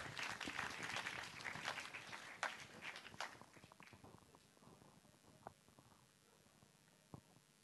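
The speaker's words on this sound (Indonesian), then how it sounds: "Mohon beri aplaus untuk keduanya." An audience applauds two composers at a new gamelan music event, a dense patter of clapping that is loud at first and then thins out into scattered claps, heard from within the crowd.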